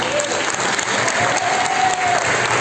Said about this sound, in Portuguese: Aplauda o Senhor pela vida dos que servem.